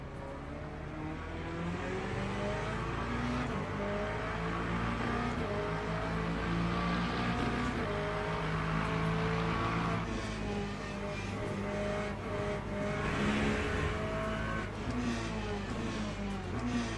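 Hypercar engine racing in the Daytona racing game, a continuous loud motor drone with shifting revs and tyre noise sustained throughout, no pauses.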